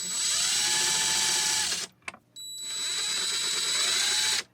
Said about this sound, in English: Just going to put in some little holes just to get things pilot started.